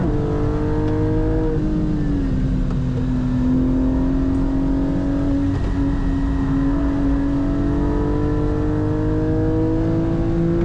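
A Porsche 718 Cayman GT4 drives hard on a race track with a partly slippery surface. Its engine drones loud and close, dropping in pitch through a shift, then holding and climbing steadily.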